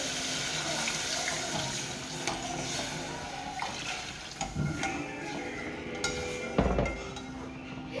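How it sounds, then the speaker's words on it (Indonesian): Water splashes and pours steadily into a pot nearby, with occasional clinks of metal and light kitchen clatter underneath. "Oke, kita masukkan air."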